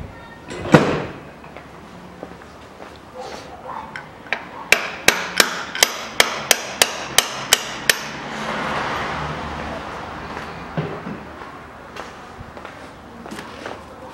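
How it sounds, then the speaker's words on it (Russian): Hammer knocking the water pump off a 2008 Chevrolet Epica engine, about ten sharp metallic blows in a quick even series after an earlier heavy thud, with workshop clatter between. "Берем молоток и отбиваем помпу."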